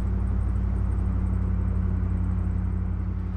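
A deep, steady V8 engine rumble with a low throbbing exhaust note from a Pontiac Executive Safari, continuous and fairly close, no talking.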